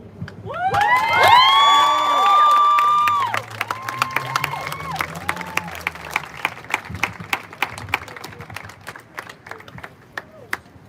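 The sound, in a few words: demonstrators applauding and cheering after speech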